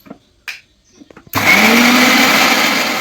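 A few quiet clicks and handling knocks come first, then a mixer grinder starts and whirs loudly and steadily as it grinds chicken masala with a little water into a paste, with no speech.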